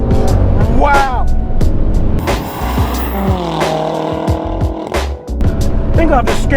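A tuned BMW F10 M5 with Evolve Stage 2 tune, catless downpipes and aftermarket intake accelerates hard, its engine roaring loudly through gear changes with sharp exhaust pops, while a voice speaks over it.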